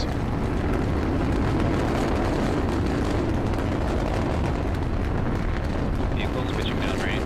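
SpaceX first-stage rocket engines roar during a launch, a constant deep rumbling blast that fills the whole stretch, with faint radio-style voices underneath.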